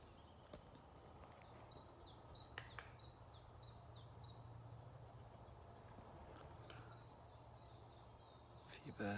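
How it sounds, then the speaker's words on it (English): Scattered bird calls and chirps in a forest, thin high tweets repeating through the clip over steady low background noise, moderately distant and quiet. "Few birds knocking about."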